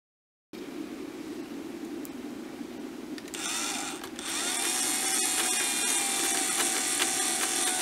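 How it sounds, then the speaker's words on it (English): A drill and a hacksaw cut an axle from a wooden dowel, the hacksaw mounted upside down: steady close mechanical whirring, then brighter, louder rasping cutting that runs continuously to the end with no talk. "Using the drill and the hacksaw, cut the axle from the dowel."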